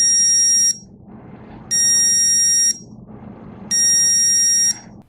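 A KiGO GPS child tracking watch sounds three bright, loud electronic beep bursts, each lasting about a second, spaced evenly apart over a low background murmur with no voices.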